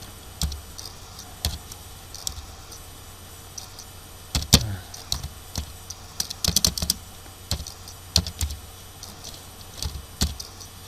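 Someone types a recipient's address on a computer keyboard in MS Word: irregular bursts of clicky keystrokes, sometimes single taps and sometimes quick clusters, close and clear against a quiet room.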